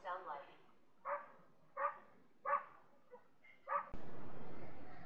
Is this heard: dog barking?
yes